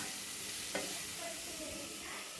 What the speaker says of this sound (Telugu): పసుపు కొద్దిగా వేసి కలిసే వరకు తిప్పుకొని మళ్ళీ మూత పెట్టి కొద్దిసేపు కుక్ చేసుకోవాలి